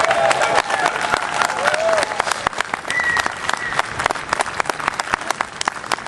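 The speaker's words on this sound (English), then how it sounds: "Go ahead and give them a round of applause, folks." A crowd at a Texas political rally bursts into a sustained round of applause, dense clapping that stays loud and steady throughout with a few whoops and shouts rising over it.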